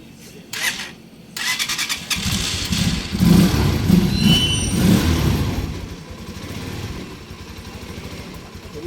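A three-wheeled motorcycle engine cranking and catching outdoors, then idling with a rough, throbbing rumble at close range while people talk nearby.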